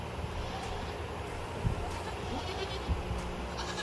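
Goats bleat a couple of times inside a goat barn where a billy is penned with the does, short calls rising over steady low rumbling background noise and faint stirring.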